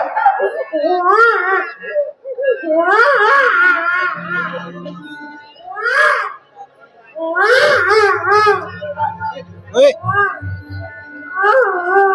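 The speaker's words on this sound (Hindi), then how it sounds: "इसके अंदर से ये बच्चे के रोने की आवाज कैसी है?" An infant's cry rises from inside a clay pot on stage during a Ramleela performance, with loud wailing sobs in repeated bursts that alternate with other voices.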